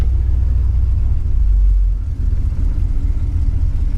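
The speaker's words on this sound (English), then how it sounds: "That's the transmission whining." A failing police car's transmission whines over a steady low engine rumble, continuous and fairly loud from near the vehicle, the drone dipping briefly midway before settling back.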